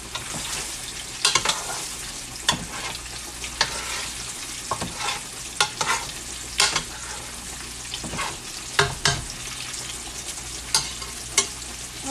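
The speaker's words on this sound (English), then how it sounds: "I'm going to come fry these a little bit" Rutabagas fry in oil with a steady low sizzle, punctuated by a dozen sharp scrapes and clacks of stirring spread irregularly across the sound.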